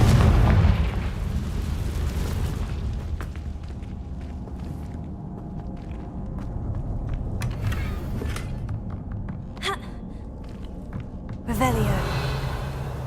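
In Hogwarts Legacy, a Confringo blasting spell erupts in a booming explosion at the start, followed by rumbling game ambience and footsteps, then a second blast near the end.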